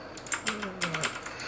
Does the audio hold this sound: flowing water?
no